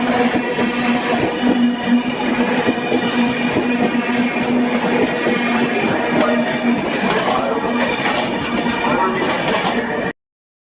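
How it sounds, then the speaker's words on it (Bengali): The Grand Trunk Express, New Delhi to Chennai Central, heard from aboard as it sits ready to leave, with a loud continuous rumble and hum filling the carriage and a steady tone, before cutting off abruptly near the end. "উঠে গেছি ট্রেনে বারো ছশো ষোলো গ্র্যান্ড ট্যাঙ্কে এখনই ট্রেন ছাড়বে"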